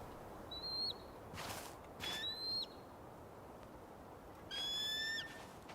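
Raptor call in the Tell Me Why game world, heard as three separate shrill, high descending cries spaced a couple of seconds apart, moderately near, over a quiet outdoor ambience with no talk.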